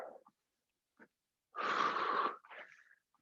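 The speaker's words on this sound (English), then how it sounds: "Nose breaths as much as you can" Nose breathing during a cardio workout: one long, loud, close nasal inhale-exhale stands out among a few short, fainter breaths, with no speech over it.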